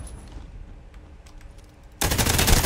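In a free-to-play first-person shooter from the Escape from Tarkov developers, a quiet stretch with faint clicks gives way abruptly to loud, sustained automatic gunfire that fires in rapid, dense bursts until the end.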